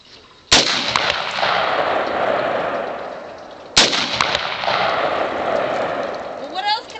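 Two loud, close shots from an AR-15 rifle aimed at ice, each a sharp crack followed by a long rolling echo, spaced about three seconds apart, with a brief voice at the end.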